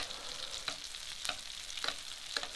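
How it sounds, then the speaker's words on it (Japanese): Sole fillet frying in a pan while foaming butter is spooned over it, a continuous bright sizzle with several sharp crackling bursts as the butter is poured. "このようにムース状になっているバターをどんどん魚にかけてアロゼしながら"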